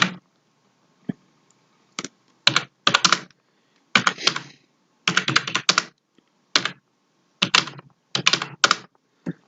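Typing on a computer keyboard in irregular bursts of quick, crisp key clicks separated by short pauses, close and clear with no talking.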